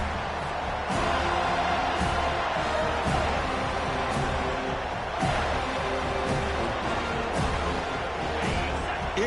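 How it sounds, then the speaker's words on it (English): A stadium crowd roars continuously in a college football video game, a dense, loud wall of cheering with scattered sharper bursts throughout. "this crowd is fired up. Listen to this noise here."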